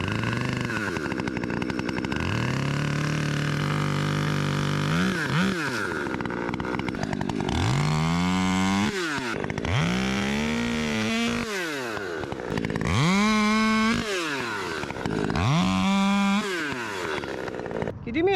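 A Husqvarna 540 Mark III chainsaw cuts into a large fir tree, its engine loud and close, revving up and dropping back in repeated surges between cuts.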